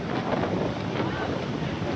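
Strong wind blows across a Goa beach beside a stormy sea, a constant loud rushing roar buffeting the microphone with no break.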